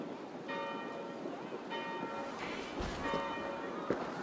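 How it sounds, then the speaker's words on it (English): Church bells ringing in Assassin's Creed Valhalla, a series of sustained tolling strikes at steady intervals over a wind-like ambient wash, moderately loud with no talk. "Do you not hear the bells?"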